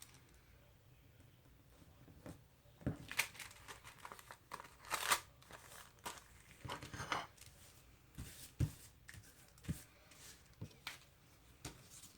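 Paper envelope edges being distressed by hand, giving soft scraping and crinkling strokes in irregular short bursts, close and quiet.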